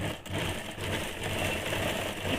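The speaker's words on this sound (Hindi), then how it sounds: "यहाँ पे भी एक चाप सिलाई डालेंगे" A sewing machine runs steadily as it stitches a blouse hem, a continuous mechanical whir and rattle with a low rhythmic hum, close and fairly loud, no voices over it.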